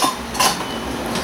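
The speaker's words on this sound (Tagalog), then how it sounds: "isama lang natin yung ating egg white. So, haluin lang natin maigi." A utensil stirs egg white into an egg pie mixture in a bowl, giving faint, light clinks against the bowl over a soft, steady background.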